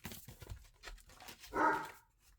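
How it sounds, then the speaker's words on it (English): A dog barks once, fairly faint and in the background, among scattered soft knocks and shuffling noises. "Would be better if Colin wasn't barking"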